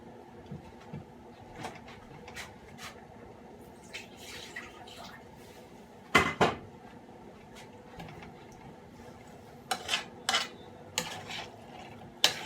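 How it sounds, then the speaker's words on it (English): Brunswick stew being stirred in a pot, with scattered close scrapes and clinks of a spoon against the metal, some louder knocks near the middle and end, over a quiet background. "Stir all this together."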